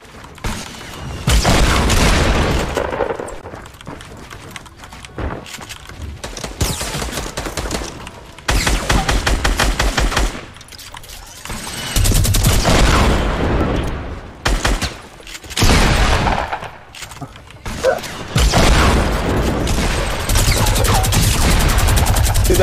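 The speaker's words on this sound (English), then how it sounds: "Get that minigun, baby! Get that minigun!" Minigun fire in the Fortnite video game comes in long loud rattling bursts, separated by short gaps and mixed with other game noise.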